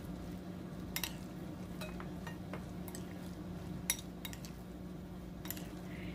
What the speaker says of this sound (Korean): 이렇게 해서 가볍게 잘 섞어줍니다.